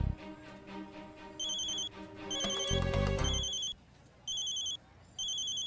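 A telephone rings with an electronic ringtone in repeated high, warbling bursts separated by short gaps. A louder, denser passage with a low thump sits in the middle of the clip.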